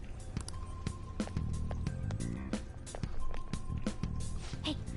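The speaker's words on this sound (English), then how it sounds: "I can hear footsteps coming" Footsteps of approaching enemies in Persona 5 Royal, a scattered patter of steps mixed with soft game music and sharp clicks, fairly quiet and continuous over several seconds.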